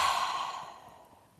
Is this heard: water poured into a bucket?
no